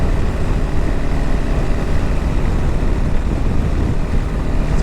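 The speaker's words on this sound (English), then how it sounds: "I don't know if I've ever had winds like this." Strong wind buffets the microphone while riding a KLR 650 motorcycle, a constant loud roaring rumble with no letup and no talking.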